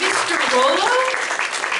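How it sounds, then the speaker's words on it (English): Audience applause at a screening and discussion event continues steadily while a voice speaks briefly over it. "give her a round of applause too"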